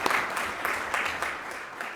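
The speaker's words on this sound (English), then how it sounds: "So a big round of applause for Dr. Nick Watt" Audience applause welcoming a speaker at a healthcare leadership event, a short burst of clapping with a loose, uneven rhythm of separate hand claps over two seconds.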